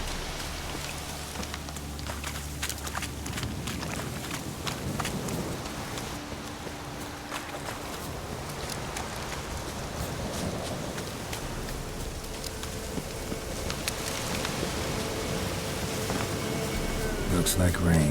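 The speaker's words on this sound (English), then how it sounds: "Looks like rain." Steady rain falling in the video game The Witcher 3: Wild Hunt, a continuous hiss of droplets with soft rustling, mixed with in-game music and tonal sounds, intensifying slightly toward the end.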